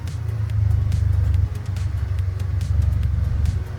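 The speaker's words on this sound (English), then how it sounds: "This is Alex and his Turbo Mustang. Turbo Boost Mustang." Turbocharged Ford Mustang engine rumbling steadily at idle nearby, a deep continuous low drone with slight fluctuation and faint ticking over the top.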